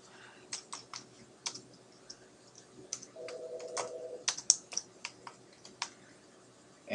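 Irregular typing on a computer keyboard while entering an address into a form, with quiet, close clicks and keystrokes in uneven bursts, including a brief tonal hum partway through.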